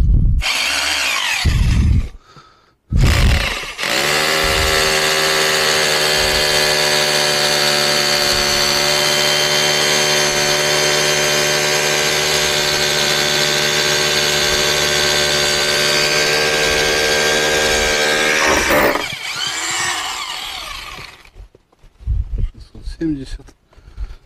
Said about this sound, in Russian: я просто кирпич положу, посмотрим еще так